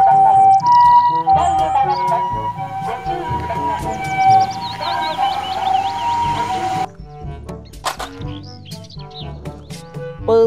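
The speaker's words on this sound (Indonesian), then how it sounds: "Mobil, ambulans." An ambulance siren sounds with rising and falling wails over a playful music bed with chirpy effects, before the siren stops and only the music continues.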